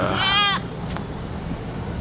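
A goat gives one short, wavering bleat at the start, near and fairly loud, then only low background rumble follows.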